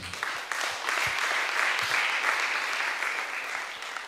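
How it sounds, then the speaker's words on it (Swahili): Church congregation at a sermon gives steady, sustained applause for about four seconds, a dense crowd of clapping throughout the space. "Tujipikie makofi"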